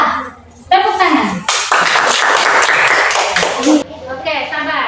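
A classroom group claps their hands together in a loud burst of a couple of seconds, with a teacher's voice speaking before and after it.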